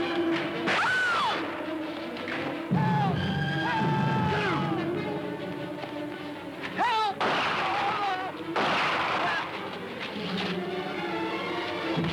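Gunfire from a 1973 crime film soundtrack, several loud sharp shots mixed with crashing noise and tense shouting voices, set among film dialogue and effects.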